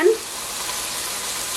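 Onion sizzles in hot oil for vegetable fried rice, a short clatter at the start giving way to a steady, even frying hiss.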